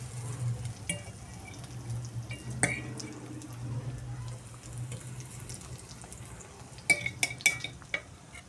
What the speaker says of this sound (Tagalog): Piniprito ko na po yung talong po.